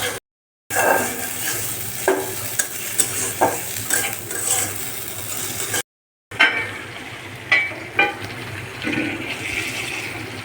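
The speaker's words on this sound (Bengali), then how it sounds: "মশলা সুন্দর মতো কষানো হয়ে গিয়েছে" Spice masala for an egg curry stir-fries in a pan with a continuous sizzling hiss. Irregular spatula scrapes and knocks come close and loud, and there are two brief silent gaps.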